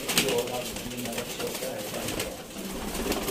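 Sialkoti pigeons coo in low, soft repeated calls, mixed with a steady bed of background noise and voices talking nearby.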